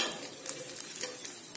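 Oil sizzles and crackles softly around a mixed vegetable paratha frying on a pan, with light stirring or scraping taps over a brief stretch.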